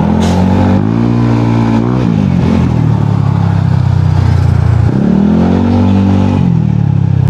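A Yamaha Aerox V1 scooter weaves through street traffic, its engine loud and close, revving up and easing off in several swells with a buzzing, rising and falling pitch.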